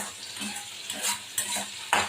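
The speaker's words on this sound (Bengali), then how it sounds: "চিনি দেবো, এটা একটু ভাজা হবে, না হলে তেলটা বেরিয়ে আসবে" Sugar fries in hot oil in a pan while a spoon scrapes and clinks against the metal, a close sizzle broken by a few sharp stirring strokes and no voices.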